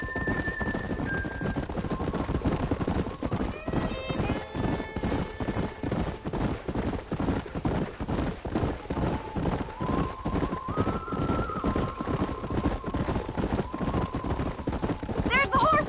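Rapid, steady hoofbeats of galloping horses with an occasional whinny, under a voice speaking over the rushing, busy soundscape of the video game Red Dead Redemption.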